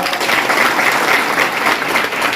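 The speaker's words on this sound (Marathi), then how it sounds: "एकदा आपल्या गाडी सरांकरता जोरदार टाळ्या वाजवा" Loud, vigorous audience applause at a kirtan honouring a guest, a thick continuous roar of many clapping hands that stays close and even for the whole stretch.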